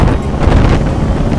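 Heavy wind buffets the open cockpit of a Polaris Slingshot with no windshield at town cornering speed, a loud continuous roar pressed close against the microphone.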